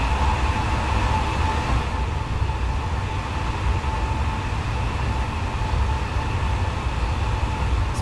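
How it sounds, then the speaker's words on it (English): LNER Armstrong Powerhouse Class 800 train running in Train Simulator, heard as a steady rumbling rail roar with a faint hum, continuous and even throughout with no talk. "The Armstrong Powerhouse Class 800 is an absolute gem of a train."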